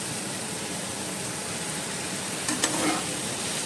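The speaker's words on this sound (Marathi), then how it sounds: "फ्रेंड्स चोय हें फ्राय जाता" Food frying in a pan, a steady broadband sizzle with one brief clink of a utensil near the end.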